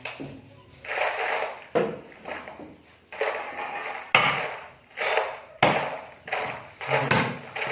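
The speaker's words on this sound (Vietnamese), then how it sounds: "bây giờ mình phải chặt bỏ đi một chút nó mới vừa cái khung giường này" Repeated heavy knife chopping blows on a wooden bed post, about eight strikes with short ringing decays, close and fairly loud, at an irregular pace.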